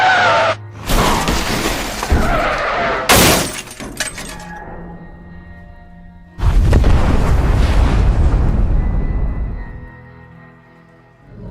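A nuclear explosion in Fallout-style game audio: sharp glass-like shattering and a loud boom, then a heavy, rumbling blast that swells and slowly fades to near silence.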